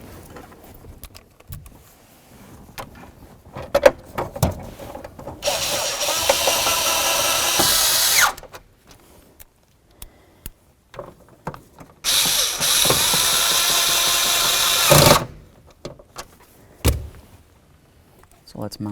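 Screws are driven in to mount a combination switch on a 1992-99 GMC K1500 steering column: two sustained whirring bursts from a power driver, separated by clicks, knocks and handling noises.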